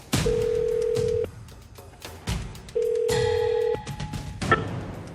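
A telephone call connects: a steady electronic ring tone sounds in two long pulses with a gap between them, mixed with dialing tones and clicks, close and clear with no talking.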